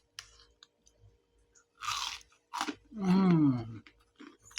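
Crispy fried eggplant is bitten and chewed close to the mic in a few crunchy bursts separated by quiet pauses, with a brief vocal sound among the bites.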